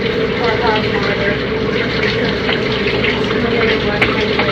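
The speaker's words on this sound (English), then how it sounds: "So I'm going to wash my hair." Water pours steadily from a tap or shower while hair is washed, a loud continuous rushing hiss with no break, and a voice is faintly present underneath.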